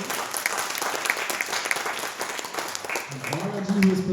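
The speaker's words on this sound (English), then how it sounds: "let's give him a round of applause" Warm round of applause from the audience at a Ramayana gyana yagna for a musician, steady clapping throughout while someone speaks over it and a low tone rises near the end.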